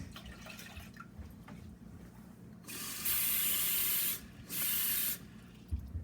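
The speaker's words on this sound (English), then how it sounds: "now I'm also going to add about 2 cups of water" Water poured from a container into a cooking pot in two separate steady pours, each lasting about a second, with a short gap between them. The pours sound loud and close against a quiet kitchen room tone.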